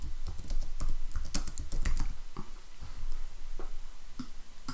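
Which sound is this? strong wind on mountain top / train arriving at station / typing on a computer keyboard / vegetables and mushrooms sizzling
typing on a computer keyboard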